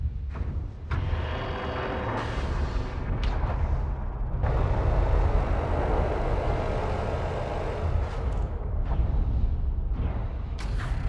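A spaceship launches in Elite: Dangerous with a loud, sustained rumbling roar. Whooshing surges rise and fall throughout, and no one speaks.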